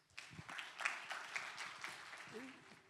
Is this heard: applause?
yes